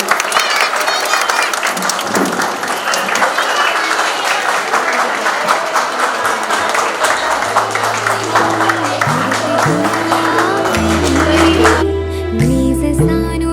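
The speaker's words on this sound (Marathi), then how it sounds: "सगळ्यांनी टाळ्या वाजवून या ठिकाणी स्वागत करायचं." Guests at a baby's naming ceremony applaud in welcome, a steady, fairly loud patter of clapping lasting several seconds with voices mixed in, then music with a sung melody comes in toward the end.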